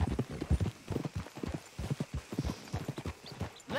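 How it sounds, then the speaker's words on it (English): Horse hooves clip-clop in steady rhythm on a road in the Western video game Red Dead Redemption 2, loud and close for the whole stretch, with no talk over them. "Let's leave the horses off the road to the right here."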